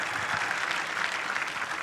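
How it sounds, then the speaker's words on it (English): An audience at a Ford Mustang 2024 debut event breaks into steady applause, a continuous crackle of many hands clapping at moderate distance with no speech over it. "Round of applause again."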